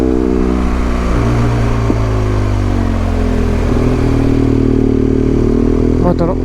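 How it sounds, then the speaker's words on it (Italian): Motorcycles ride down a mountain road past the listener, engines droning loudly and steadily with shifting pitch, a constant rumble throughout and a sharper rising whine near the end. "moto che scendono"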